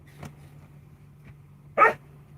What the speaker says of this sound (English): So what the fuck are you even barking at? No. Crazy dog.